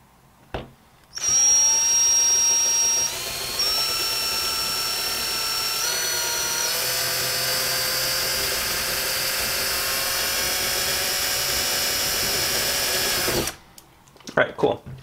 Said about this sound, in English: I'm gonna drill down in, so hopefully maybe it's a little cleaner on the front side